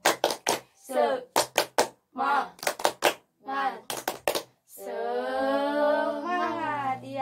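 A class claps the tepuk semangat rhythm, sharp clusters of hand claps in quick groups of three, alternating with children's voices chanting between them, then a longer sustained vocal shout.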